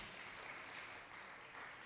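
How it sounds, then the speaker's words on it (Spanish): A group at a Spanish-language Bible class applauds, producing soft, even clapping that stays faint and distant for the whole stretch without pause. "un aplauso para ellos"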